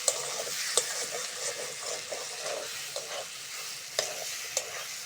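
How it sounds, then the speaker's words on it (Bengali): Ginger garlic paste fries and is stirred in a pan, a steady soft sizzle broken by sharp scraping strokes of the spoon roughly once a second, close and alone. "আদা রসুন বাটা, আদা রসুনটাও ভালো করে ভেজে নেব।"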